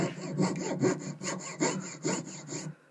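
A fine saw blade rasps back and forth through a metal locket in quick, rhythmic strokes, close and fairly loud, stopping abruptly at the end.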